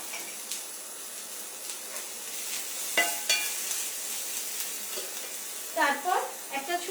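Whole spices and finely chopped onion sizzle in a pan on the stove, a steady soft frying hiss broken by a few clinks and stirring scrapes, with louder bursts of stirring near the end.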